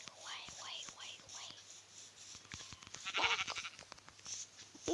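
Sheep bleat in a video game, with short wavering cries repeating over faint clicks and light background noise, one louder bleat standing out midway.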